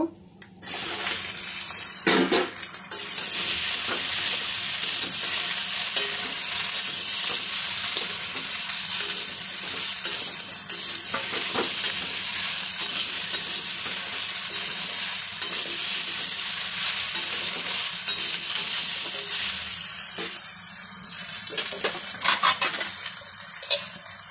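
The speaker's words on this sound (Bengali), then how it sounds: "এবার আমি কেটে রাখা ঢেঁড়সগুলো দিয়ে দেব" Chopped okra tipped into a pan of potatoes and spices frying in fish oil, giving a loud, steady sizzle with stirring scrapes and a few clinks throughout, no talking.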